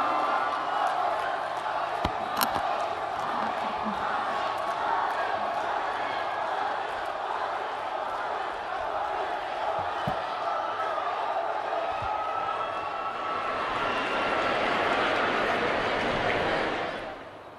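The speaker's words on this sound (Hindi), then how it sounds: "और एक बार जोरदार तालियां माननीय प्रधानमंत्री जी के स्वागत में" Sustained loud applause and crowd noise from a large audience welcoming the Prime Minister at a public event in Visakhapatnam, steady for the whole stretch with a swell near the end before it cuts off.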